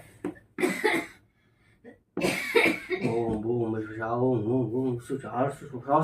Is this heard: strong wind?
no